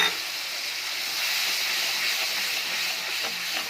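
Ground spice paste hits hot oil in a pan for a mustard-based pointed gourd curry, producing a steady, bright sizzling hiss that holds evenly throughout the short stretch.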